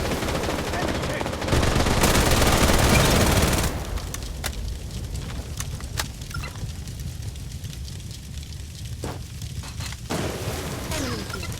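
Automatic gunfire in the Blood Strike shooter game, with a loud sustained burst early on followed by scattered sharp shots and distant fire over a steady battle background.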